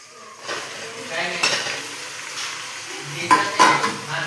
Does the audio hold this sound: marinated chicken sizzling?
yes